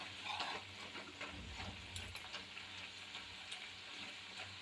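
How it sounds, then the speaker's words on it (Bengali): Nimki dough strips deep-frying in oil in a kadai, puffing up, with a steady broadband sizzle and bubbling that runs throughout at moderate level, with no voices. "দেখো এই যে দিয়েছি আমরা এক কড়াই। এই দেখো কেমন সুন্দর নিমকি ফুলছে।"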